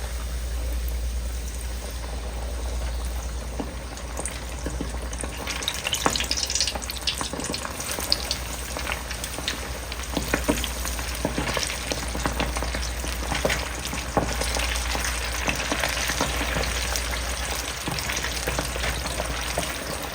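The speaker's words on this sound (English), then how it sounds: "Shake off any excess dredge before placing it into the hot oil." Hot oil crackles and sizzles steadily as dredged chicken deep-fries, a dense, continuous bubbling hiss with occasional louder pops.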